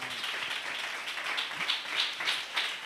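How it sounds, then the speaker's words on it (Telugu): A church congregation claps in unison after a baptism service, a steady run of bright hand claps at a brisk rhythm with no talking over them. "నమ్మిన వారు చప్పట్లు కొడదాం."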